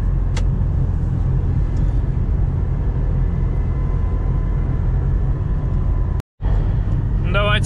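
A Lada Niva Travel cruising on a highway gives a steady low road and engine rumble from inside the cabin, with a short dropout near the end.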